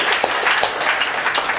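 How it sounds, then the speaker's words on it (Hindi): An audience at a live Hindi comedy and poetry stage show claps: a short, dense, steady wash of many hands applauding together, fairly loud, with no voices over it. "एक बार ताली बजा दीजिए।"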